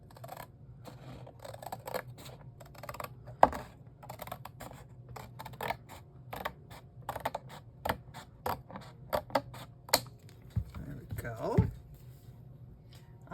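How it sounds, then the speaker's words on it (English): Paper being trimmed off a papercraft project, a run of light snips and crisp clicks under steady room hum, with a few louder handling knocks, one sharp tap near the start and rustling toward the end. "I'm just going to take this piece here and cut this off"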